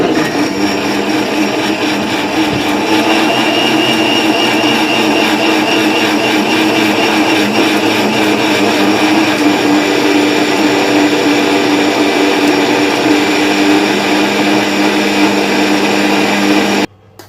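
A mixer grinder whirs loudly and steadily, blending mango and water for a long stretch before abruptly stopping.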